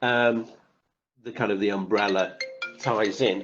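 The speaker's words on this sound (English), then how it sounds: "That's a phone on." A mobile phone rings out during an online Cisco Umbrella and Meraki network security webinar, a short bright tone sequence cutting in beneath a presenter's continuous talk.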